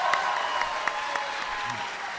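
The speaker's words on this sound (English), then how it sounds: "Everybody clap for Lawrence, please." An audience claps steadily, a dense wash of applause at moderate volume that holds evenly throughout.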